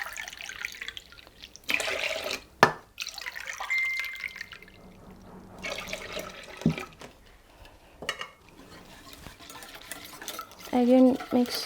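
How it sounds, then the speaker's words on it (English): Chicken and shrimp soup stirred in a pot, with liquid swishing and sloshing, occasional clinks and drips, close up and moderately quiet, with no speech over it. "Again mix very well"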